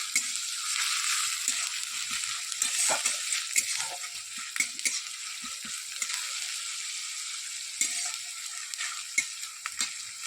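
Onion frying in oil in a pan, a steady close hiss of sizzling with scattered small crackles and pops throughout, no voices.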